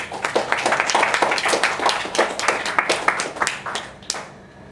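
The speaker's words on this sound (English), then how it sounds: "let us applaud their brilliant and courageous efforts" Audience applause at a seminar, a dense stretch of clapping from a smallish room that thins near the end, fairly close and steady with no talk over it.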